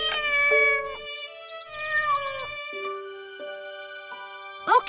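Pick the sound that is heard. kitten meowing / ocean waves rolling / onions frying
kitten meowing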